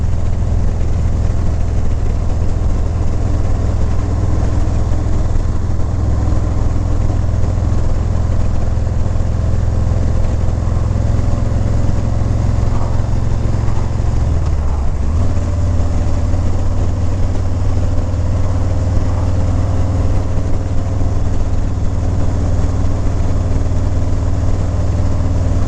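Steady engine drone and rushing wind from a motorcycle cruising coastal Highway 1, a continuous loud rumble with no breaks and no speech.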